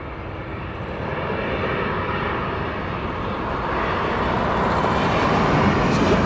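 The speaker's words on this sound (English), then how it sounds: "So we've got the RYANAIR going past us." A Ryanair airliner passes at East Midlands Airport at night, its engines a steady, broad roar that swells slightly louder over several seconds and never breaks.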